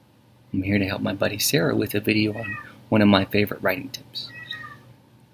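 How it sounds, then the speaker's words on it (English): A house cat meows in the background, several short high calls mixed in under a man's steady, close talking. "Excuse my cat in the background."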